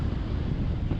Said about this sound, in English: It's a bit more wind here.